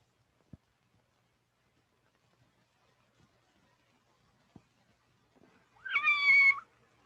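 A kitten gives a single clear, rising-and-falling meow close by near the end, after long near-silence broken only by a few faint clicks.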